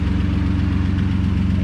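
A 1957 Austin-Healey 100-6 idles while warming up, its engine giving a loud, steady, close low rumble with an even pulsing beat throughout.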